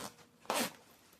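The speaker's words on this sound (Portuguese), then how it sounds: "Agora, a gente abre o zíper" A zipper pulled open on a handmade sewn fabric pouch, one quick close rasping burst lasting a fraction of a second amid quiet room tone.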